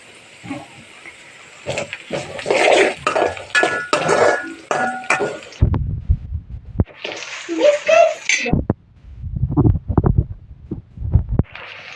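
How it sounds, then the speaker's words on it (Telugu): Chopped ivy gourd is stirred in a cooking pan with a spoon, making repeated clattering scrapes and knocks against the metal, loud and close, with brief pauses between bursts. "దొండకాయలు అయితే కలుపుకుంటున్నాం"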